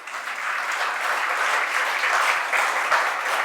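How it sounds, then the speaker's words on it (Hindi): A crowd claps steadily through a sermon in Indore, dense continuous applause from many hands filling the hall, even and sustained with no voices over it. "जैसे आप ताली बजा रहे हैं"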